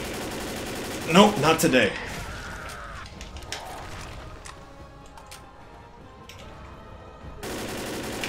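Gunfire in the Xbox 360 game Left 4 Dead during the No Mercy finale, a rapid burst of automatic shots near the start followed by scattered clicks and reloading sounds, with a player's voice speaking briefly over it.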